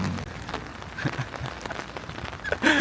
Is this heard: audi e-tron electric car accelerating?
no